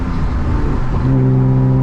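Loud exhaust drone from a manual BMW E36 328i driven at night, a steady close engine rumble with a low tone that steps up into a stronger, higher pitch partway through as the car pulls.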